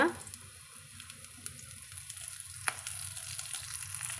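Chopped shallots frying with mustard seeds and curry leaves in hot oil, giving a steady, fairly quiet sizzle and crackle throughout with a couple of faint clicks from the pan.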